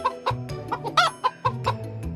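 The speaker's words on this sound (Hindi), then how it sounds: "सभी लोग मिलकर एक मुर्गी को पकड़ने की कोशिश कर रहे थे।" A hen clucks in a run of short, loud, choppy bursts at close range while people try to catch it during a riverside family picnic, with one sharper squawk in the middle.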